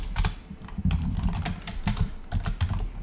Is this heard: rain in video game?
no